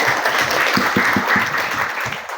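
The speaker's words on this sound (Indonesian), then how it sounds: "Tepuk tangan untuk Bapak Ibu semuanya." Audience of adults at an Islamic Quran-teaching workshop in Surakarta applauds steadily, a dense wash of hand claps with a few stronger individual claps standing out, continuing close and loud throughout before easing slightly at the end.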